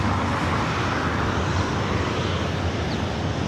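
A Boeing 737-800 airliner at LAX roars steadily nearby, a broad, dense jet rumble that holds level without letting up.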